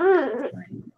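Dog giving a brief, close whine that slides downward, followed by a few soft low murmuring sounds.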